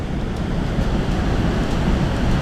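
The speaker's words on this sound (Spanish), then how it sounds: "Wow, cómo baja esa agua ahí." Water rushes down loudly and steadily at a riverside spot in Terrebonne, a dense continuous roar like surf with a wind-buffeted rumble underneath and no voices.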